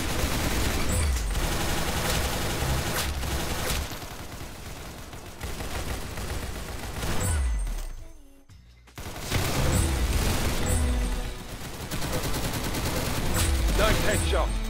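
Gunfire in the Roblox shooter Arsenal: dense, rapid bursts of shots crackle almost nonstop, with a brief lull around the middle before the firing resumes at full loudness.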